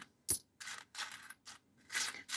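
Commemorative Thai coins, including ten-baht and three-baht pieces, clink together as they are handled in the hand: a sharp first strike followed by several bright jingling bursts with short pauses between them.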